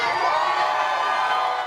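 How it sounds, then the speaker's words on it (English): A hometown crowd at the Minnesota State Fair screams and cheers in a loud, dense, sustained roar of high voices that holds steady without a break. "To the screams of the hometown crowd today"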